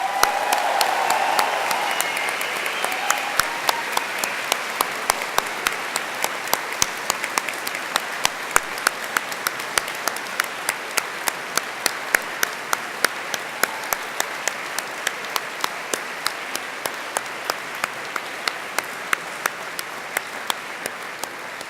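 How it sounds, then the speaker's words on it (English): Graduates at a Cardiff University graduation ceremony give their family and friends a huge cheer and a round of applause: dense, sustained clapping fills the hall for over twenty seconds, with a brief vocal cheer at the very start. "say a very special and public thank you to them all by giving them a huge cheer and an enthusiastic round of applause"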